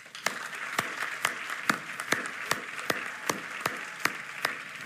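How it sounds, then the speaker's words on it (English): A crowd applauds award winners at an infrastructure awards event, a dense, steady wash of many hands clapping with sharper individual claps popping out at irregular intervals throughout. "let's give a huge round of applause to all of our 2020 award winners."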